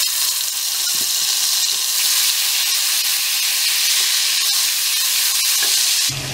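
Ginger garlic paste fries with whole spices in a pan, giving a loud, constant hissing sizzle close up with a couple of soft stirring knocks, cut off abruptly near the end.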